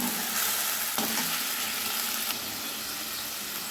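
Ground spice paste fries in oil for an egg curry, giving a loud, steady hiss with a few stirring scrapes near the start, heard close.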